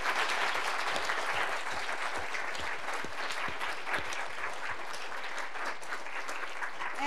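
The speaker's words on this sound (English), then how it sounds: "So I think we really need to give Nipam a big round of applause." A lecture audience applauds the speaker at the end of a neighborhood science talk. The clapping is steady and moderately loud, with individual claps audible, and continues for several seconds without talk.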